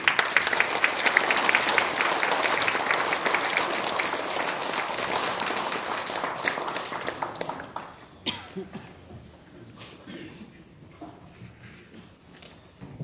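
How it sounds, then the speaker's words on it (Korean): Loud, dense applause from a church congregation at a 30th-anniversary worship service, sustained for about seven seconds before thinning into scattered claps and fading. "박수로 크게 영광."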